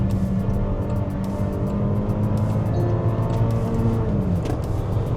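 A 2026 Range Rover Velar driven at night takes a corner in first gear, a steady close engine drone with a faint high turbo whine riding over a constant road roar.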